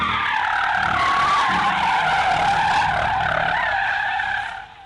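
A Jeep's tires squeal in a long, heavy, continuous screech with engine noise underneath, loud and steady for nearly five seconds before fading out at the end.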